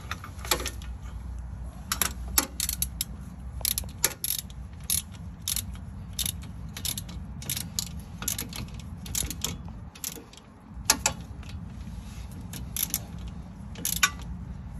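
Bolts being tightened by hand tool to draw a front passenger-side wheel bearing into place on a Mazda CX-5, heard as repeated sharp clicks and ratcheting ticks scattered over a steady low background hum in a garage.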